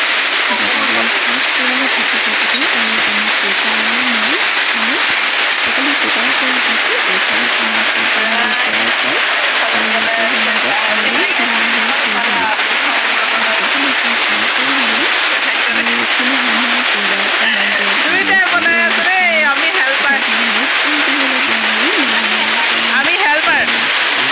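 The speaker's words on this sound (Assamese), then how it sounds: "এইখিনি সময়ত বিৰাট ডাঙৰ বৰষুণ দি আছিল" Heavy rain pours down in a steady, dense hiss that never lets up, with faint voices now and then underneath.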